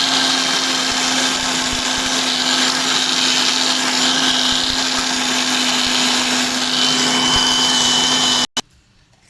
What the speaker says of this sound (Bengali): এই যে কালো জিরে, শুকনো লঙ্কা এর সঙ্গে দিয়ে দিলাম, সব একসঙ্গে দেওয়া হলো। দিয়ে মিক্সচার মেশিনে দেবো।